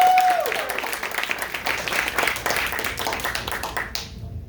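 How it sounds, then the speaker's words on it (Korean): A church congregation at a Korean Sunday worship service claps in a moderately loud, crisp wave of applause that tapers off near the end. "큰 박수로 맞이해주시죠"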